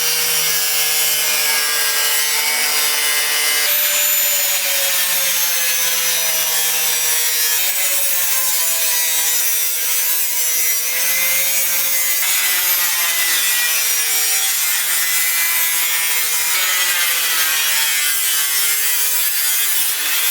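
A grinding wheel cuts through and grinds old parts off the rusty iron frame of a blacksmith's bellows forge, giving a loud, continuous abrasive whine that wavers slightly in pitch for about twenty seconds, with no talk.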